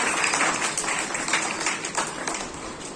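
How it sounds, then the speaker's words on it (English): A school audience at an Independence Day celebration applauds in a dense, continuous crackle of many hands, loud and steady throughout. "Please give her a huge round of applause."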